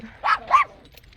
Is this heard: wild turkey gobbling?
no